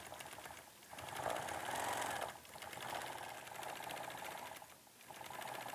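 A sewing machine quilts an antique leafy quilt block with a fast, continuous mechanical whir. The stitching surges and eases in several stretches, with brief slowdowns between them, and is heard close with no voices.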